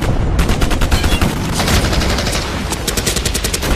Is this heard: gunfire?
yes